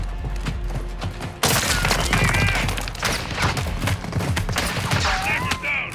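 Gunfire in the video game Call of Duty Modern Warfare II, dense bursts of shots and booms under a loud battle soundscape, close and sustained, with a brief pitched whine near the end.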